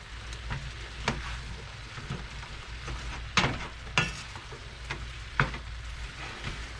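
Fresh onion frying in a pan for broccoli beef, a soft steady sizzle with a few sharper scraping or stirring clicks scattered through, fairly quiet and close.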